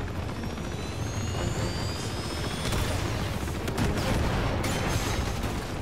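Helicopter rotor noise and bursts of gunfire in the video game Uncharted 2, a continuous loud rumbling drone with sharp shots and crackling impacts layered on top, no talk.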